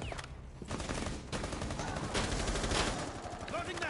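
In Rainbow Six Siege, dense gunfire crackles continuously for a few seconds in a busy, compressed mix, with a voice talking underneath.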